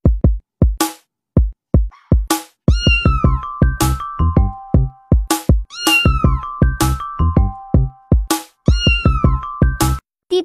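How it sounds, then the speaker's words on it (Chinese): A kitten meows repeatedly in short, loud, close calls, some rising and falling, spaced irregularly with a few brief pauses, alongside a light chiming melody. "第七个淘气小猫咪。"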